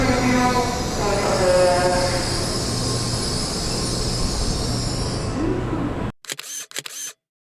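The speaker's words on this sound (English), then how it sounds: "They have an hourly express train running from Osaka to Nagoya called the Hinotori." Kintetsu Hinotori express train running from Osaka to Nagoya: a steady, loud rumble of the ride with faint squealing tones, then an abrupt drop to near silence broken by a few sharp clicks.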